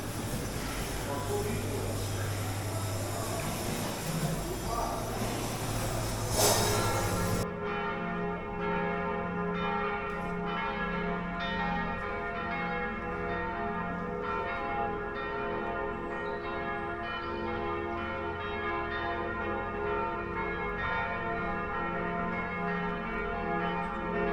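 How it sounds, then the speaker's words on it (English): Church bells chime around Salzburg at six o'clock on a warm evening, ringing in layered, resonant tones that carry on steadily across the city. Other noise at the start soon falls away, leaving the bells ringing alone. "The bells around the city are starting to chime."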